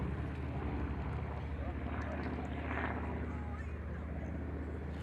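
Three-engine Junkers Ju 52 transport flying slowly at an airshow, its steady propeller drone and low rumble continuous throughout, heard at moderate distance under outdoor wind noise with talk over it.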